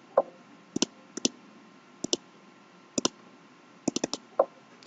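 A computer mouse clicks while a folder's properties and security settings are opened on a PC. Crisp single and double clicks are spaced irregularly across a quiet room, with no voices.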